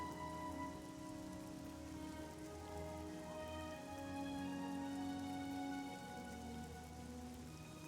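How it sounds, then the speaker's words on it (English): Steady rain falls across an overcast landscape in the video game Morrowind, a dense continuous patter that holds even throughout, with a soft ambient music bed underneath and no talking. "And of course, it decides to rain."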